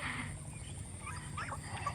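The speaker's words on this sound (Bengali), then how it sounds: "আপনাদের দেখানোর সুবাদে হাঁসগুলোকে এত কাছ থেকে দেখছি" Ducks grazing on grass close by, soft low quacks and clucking calls over a quiet outdoor hum, faint and brief, with no one speaking.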